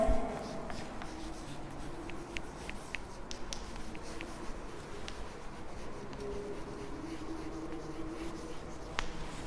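Pen writing numerals on paper during a maths lesson, a soft continuous scratching with occasional light taps, close and quiet throughout with no voices.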